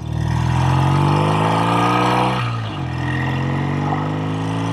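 Vintage BSA Thunderbolt motorcycle with a single carburetor, its engine revving steadily under load, then dipping briefly at a gear change before pulling on at a steady drone as it rides off.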